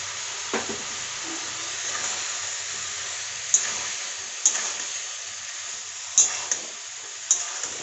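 A paste of poppy seed, cashew, coriander leaves, green chilli and tomato fries in a pan with a steady close sizzle, while a few light scrapes and clicks of stirring come through near the end, with no talking.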